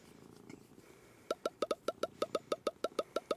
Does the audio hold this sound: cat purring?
yes